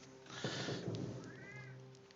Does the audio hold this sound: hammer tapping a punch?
no